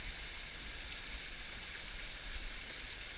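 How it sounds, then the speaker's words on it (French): Steady, even rush of a flowing mountain stream, a continuous broadband wash of water heard up close with no pauses or voices. "c'est un ruisseau de montagne"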